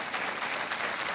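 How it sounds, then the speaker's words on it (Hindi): Studio audience applause on a quiz show, a short burst of dense, even clapping with no gaps. "तालियां बजती रहनी चाहिए देवी और सज्जनों"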